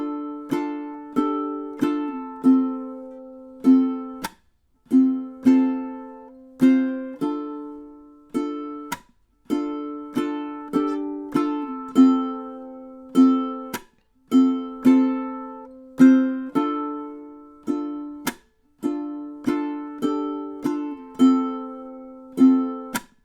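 A ukulele strums a song in a repeating rhythmic pattern of bright, ringing chords with short pauses between phrases. It is close and alone, with no voices.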